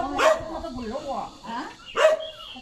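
A puppy near at hand gives two sharp, high yelping barks, one early and one near the end, with people talking close by between them.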